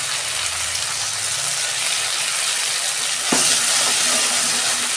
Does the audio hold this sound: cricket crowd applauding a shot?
no